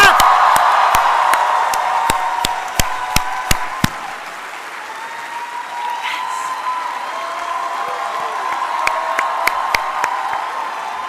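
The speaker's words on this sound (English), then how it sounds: "stand up if you can and just start cheering and clapping" An audience at a speech, asked to stand, cheers and claps: a crowd murmur with scattered sharp individual claps, dense at first, thinning out, then returning sparsely near the end.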